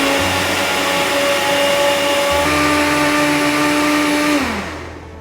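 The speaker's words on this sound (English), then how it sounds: "I've transferred it to a blender, so it's a jug blender." A jug blender purees cooked asparagus with a loud, steady motor whine and whirring hum, holding constant for several seconds before the motor winds down and stops.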